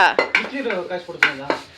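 Pots and dishes being washed in hot water clatter and clink in quick bursts, close by, with a few sharp metallic knocks over running water-like noise.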